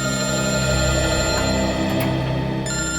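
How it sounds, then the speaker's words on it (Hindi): A telephone rings steadily in an office-like setting at a crime investigation bureau, a continuous electronic ring held at moderate loudness with no voices over it. "सर, टूर कंपनी वालों का फोन।"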